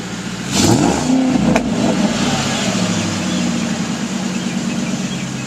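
A 1956 Ford Victoria engine rumbles steadily nearby, with a brief rev early on before settling into a loud, throaty idle; a voice is faintly audible underneath.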